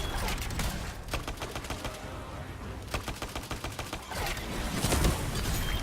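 Rapid bursts of video game gunfire from a combo storm build in Anthem pound continuously, with dense rattling shots layered over a loud, busy action mix.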